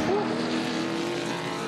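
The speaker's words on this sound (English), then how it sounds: "They're on the rev limiter at the end of Conrod Straight." Touring Masters race cars at Bathurst hold a steady, loud engine drone on the rev limiter at the end of Conrod Straight, a continuous buzzing roar with a faint rising whine.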